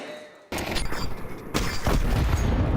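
Rapid pistol gunfire from dual Berettas in a Counter-Strike esports match, a dense fusillade of sharp shots starting abruptly after half a second of quiet and continuing loud and steady to the end.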